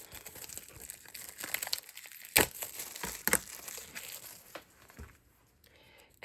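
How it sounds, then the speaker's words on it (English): Thin protective plastic film peeled off quilting rulers for modern curves, a soft crinkling and tearing rustle with a couple of sharp crackles, close and quiet. "they have a really thin plastic. Here you can see, so you just need to peel that off"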